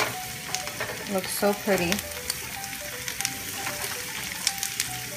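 Tart cherries hit hot black rice in a pan and sizzle steadily, with stirring scrapes and a brief spoken comment over the continuous frying.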